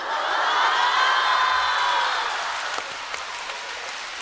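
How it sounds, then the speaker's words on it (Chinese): Audience applause at a Deyunshe crosstalk comedy show, a loud burst of clapping from a theater crowd that swells then gradually thins out, with a few whoops. "这值得鼓掌吗？这缺德事儿，这还舔脸鼓掌呢"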